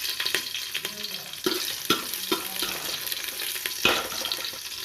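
Garlic and green chilies sizzle and crackle in hot oil for a homemade South Indian dry fish curry, a loud continuous hiss broken by sharp spits and a few stirring clatters, close up with no talking.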